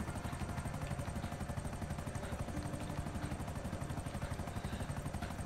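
Helicopter in the video game GTA Online, a steady loud rotor chop and engine drone with rapid rhythmic beating throughout, close and continuous with no talk.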